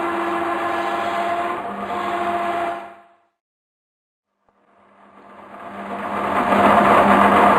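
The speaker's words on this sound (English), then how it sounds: "gently start polishing the knife from the tip to the handle, repeat each side for 3 to 4 times" A DICK SM 111 grinding and sharpening machine polishing a knife blade, giving a steady motor whir with grinding hiss that stops fully for about a second and a half, then builds back up louder.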